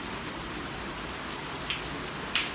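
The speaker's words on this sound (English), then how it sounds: "It's not raining men, it's raining water." Rain falls outside as a steady, even hiss, with two brief sharp drip-like ticks near the end.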